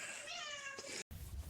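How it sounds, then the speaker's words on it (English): A cat gives a single drawn-out, falling meow lasting about a second, close and clear, followed by a brief gap and then low rustling. "Meow!"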